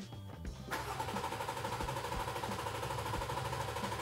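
A Jeep 3.6 Pentastar engine cranks during a dry-start oil priming, with a starter kicking in abruptly after a brief quiet moment and whirring steadily and rhythmically without catching.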